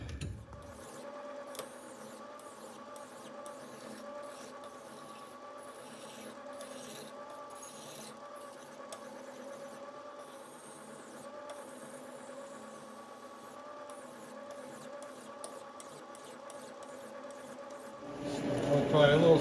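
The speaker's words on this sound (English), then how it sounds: "I'm going to polish this one off before I take it out of there" An engine flywheel is polished with a faint, steady rubbing hum that runs on at low level before louder handling noise near the end, with no talking.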